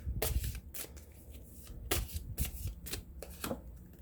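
Tarot cards are shuffled up close in a series of sharp, crisp riffles and slaps, several quick bursts spread unevenly with brief gaps between them and no speech.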